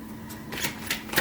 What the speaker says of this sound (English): Let's get one more card.